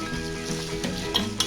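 Peas and capsicum sizzle and fry in a pan for vegetable pulao. A steady, close hiss is broken by a few brief stirring scrapes, and no one speaks.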